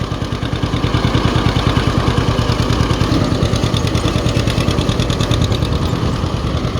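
A John Deere 50 tractor engine chugs steadily while planting winter rye, a loud, close, rhythmic two-cylinder pulse with clattering overtones that holds an even beat throughout.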